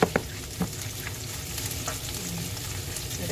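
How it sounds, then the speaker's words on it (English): Garlic and ginger frying in a pan for prawn sinigang, a steady soft sizzle with a few sharp clinks of stirring near the start, close and moderate in level. "cook the garlic, then till it's a bit brown, and then add this ginger"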